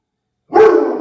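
A dog lets out a single sharp bark at night, loud and close after a moment of silence.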